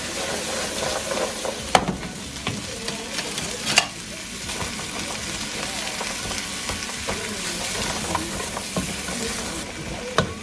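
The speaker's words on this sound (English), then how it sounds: "Then we're going in with all the mixed vegetables." Mixed vegetables sizzle steadily in a hot pan, a constant close hiss with occasional knocks and scrapes from stirring scattered through it.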